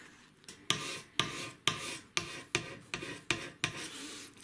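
A sharpened cabinet scraper pulls across a wooden stock for a snaphaunce musketoon, giving about eight close, rhythmic rasping strokes, each with a crisp start that fades away. No voices.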